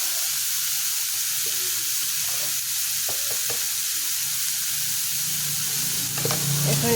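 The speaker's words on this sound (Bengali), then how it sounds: "এখন এটাকে আমি নেড়ে চেড়ে নেব।" Giant taro pieces with turmeric powder being stirred in a frying pan, a steady close sizzle of oil with a few scraping knocks of the spoon and a louder burst of frying near the end, no voices.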